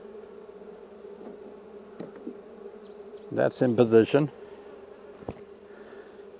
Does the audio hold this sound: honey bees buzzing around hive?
yes